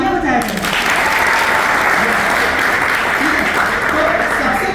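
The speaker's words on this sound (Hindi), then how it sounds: "यार तालियां बजाया करें" Audience at an influencer meetup clapping steadily for several seconds, a dense sustained wash of applause with faint voices mixed in.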